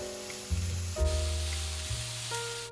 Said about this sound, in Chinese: 锅中加入少许油，倒入全部小料，